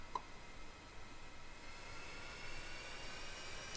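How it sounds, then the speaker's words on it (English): An F-5E's left jet engine spools up in the DCS flight simulator game with a rising, steady whine and broad rumble, growing slightly louder over a few seconds. "So now we can start the left engine."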